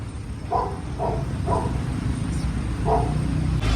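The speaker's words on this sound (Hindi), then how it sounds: "उसको भौंकना स्टार्ट कर दिया है" A few short Labrador barks, somewhat distant, in an irregular series over steady background noise.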